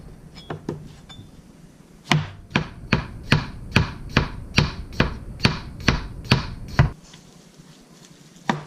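Knife thinly chopping pho toppings on a cutting board: about a dozen crisp, evenly spaced chops, close and loud, with a few lighter taps before them.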